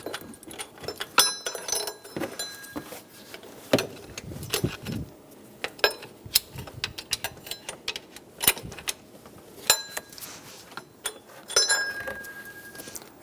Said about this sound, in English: Remove both bolts, slide the bolts out.